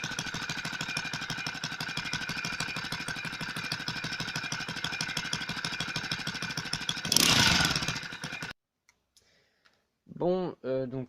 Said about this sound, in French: le moteur fonctionne sans essence